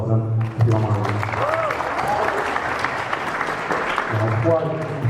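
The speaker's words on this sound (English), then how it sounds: "So kind of a round of applause to them, if you don't mind" An audience at a student union poetry slam applauds, a dense wash of clapping carrying on steadily, with a voice speaking briefly at the start and again near the end.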